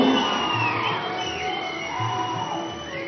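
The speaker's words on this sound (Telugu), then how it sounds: "ఇప్పుడు పద్మ విభూషణులు ఇరువురికి ఒక్కసారి గట్టిగా చప్పట్లు కొట్టి మనం శుభాకాంక్షలు అందజేద్దాం" Crowd at an event felicitating Padma Vibhushan award winners, cheering and whooping loudly in a sustained wash of voices that fills the whole moment.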